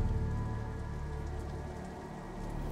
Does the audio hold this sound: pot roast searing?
no